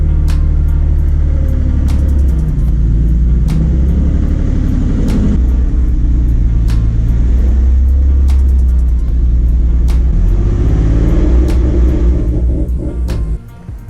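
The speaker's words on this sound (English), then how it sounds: "I don't know if you guys heard when I revved it" A Nissan G35 engine with a bad engine rumbles steadily at close range, with its pitch rising and falling through several revs, and sharp clicks or pops recur throughout.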